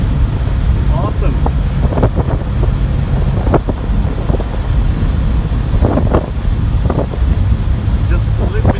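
A 1975 classic Porsche on the move, with a steady, loud engine and road drone that runs throughout, buffeted by wind noise and heard with a voice talking over it.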